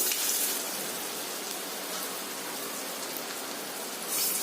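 Pumpkin fritters (kumro bora) fry in hot oil with a steady, dense, close sizzle that holds evenly throughout.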